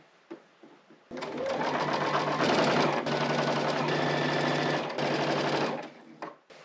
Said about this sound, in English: I'm taking right sides together and matching these up, sewing 1/4 inch on either side of that line